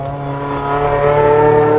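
A tuned piston-engine car revs hard toward 8,500 RPM. The engine's steady harmonic note climbs and grows louder through the clip, close-up and with no talk over it.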